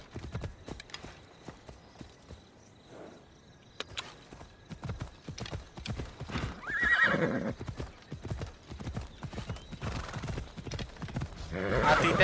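A horse in Assassin's Creed Odyssey clip-clops along in rhythmic hoofbeats and lets out a loud whinny midway, with people talking over the game sounds throughout.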